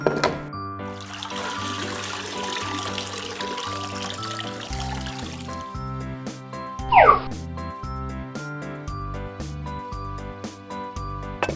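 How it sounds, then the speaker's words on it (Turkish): Water pours steadily into a pot beneath background music, a soft continuous splashing rush for the first few seconds. "Tenceremize biraz su koyalım."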